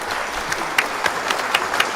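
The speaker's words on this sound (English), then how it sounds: "Give yourselves a round of applause" An audience at a live podcast kickback session claps steadily for a couple of seconds, a dense, moderately close patter of hands with a few sharper individual claps.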